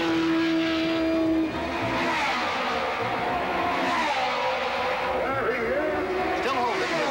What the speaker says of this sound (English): Coming down to the end of the race is Clark, Jones, and Andretti, running together, but traveling in different laps